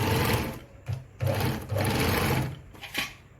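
A Veritas Zickzack 8014/29 sewing machine stitches through fabric at its number 2 stitch setting, a loud close mechanical whir in three bursts with short pauses between.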